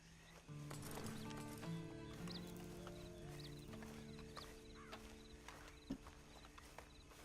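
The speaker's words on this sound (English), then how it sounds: "And you better get on this horse." Horse hooves clip-clopping in Red Dead Redemption 2, an even walking rhythm under a steady ambient bed, with a short whinny near the start and a sharper knock later.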